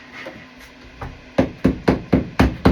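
A PVC pipe fitting struck repeatedly against a hard surface to break it loose, giving about six sharp knocks in a steady rhythm that grow louder, preceded by a few fainter taps.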